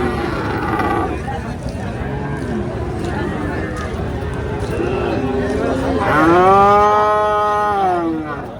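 Friesian cattle low at a busy cow market, with a long, loud moo rising near the end over a constant murmur of crowd voices.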